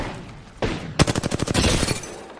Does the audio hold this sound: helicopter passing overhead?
no